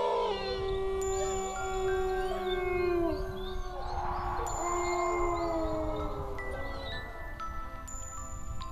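A small pack of young wolves howls at a watering place just after sunset, with several long overlapping wavering howls rising and falling together, loud and fairly close, a steady chorus throughout.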